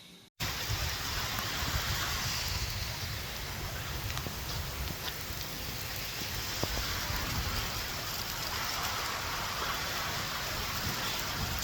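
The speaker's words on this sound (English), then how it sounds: "It's raining quite heavily." Heavy rain pours steadily and loudly throughout, a dense unbroken hiss from start to finish, during an outdoor park run.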